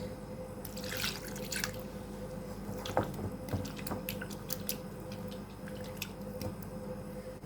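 Water is poured and splashed over cut chicken pieces in vinegar, giving soft close trickles and drips with wet squelches from the mixing, all fairly quiet.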